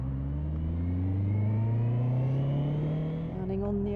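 A car drawing near along the road, its engine rising in pitch as it closes in, heard steadily up close from inside a vehicle on a driving test route, with faint road rumble underneath.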